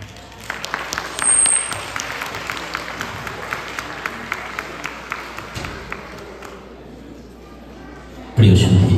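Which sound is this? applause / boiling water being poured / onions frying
applause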